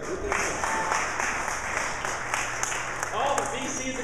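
An audience at an angel-versus-venture-capital panel claps and yells in a brief burst of scattered applause and shouts, with voices mixed into the crowd noise.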